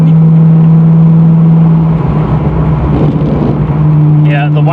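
A 1993 Ford Mustang GT convertible drives with the top down, its engine droning loud and steady with a brief dip partway through as it shifts into fourth gear, while a person talks.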